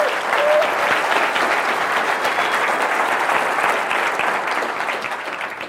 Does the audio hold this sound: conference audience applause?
yes